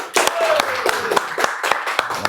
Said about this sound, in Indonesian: Kita sambut bersama dengan tepuk tangan Dr. Hasto